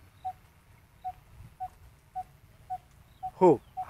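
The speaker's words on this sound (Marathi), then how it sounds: "हा तांबट पक्षाचा आवाज आहे" A coppersmith barbet's repeated hollow 'tuk' call at an even, slow beat, faint and distant, with a brief louder wavering sound near the end.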